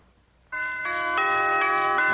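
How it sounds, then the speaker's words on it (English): A doorbell chime used as a radio show sound effect rings out loud and clear, its tones striking one after another and ringing on together, with no voices. "Well, I suppose I should ring the doorbell."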